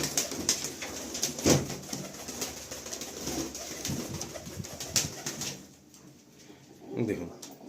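Malwai pigeons cooing, soft repeated low coos among bird calls and shuffling, close by, with people talking over them through most of the clip before a quieter stretch near the end.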